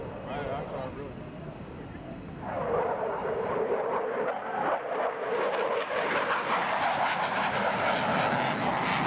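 A fixed-wing airplane engine swells into a loud, steady roar as the aircraft passes at a military air base airshow, with crowd voices underneath.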